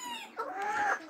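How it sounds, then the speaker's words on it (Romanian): A hen with a sore leg gives a short burst of close, clear clucking, about a second long, with no voices. "Este o găinușă superbă."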